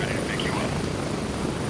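A helicopter in the video game Gray Zone Warfare, a steady loud rotor and engine drone that fills the whole moment, with a voice talking faintly over it.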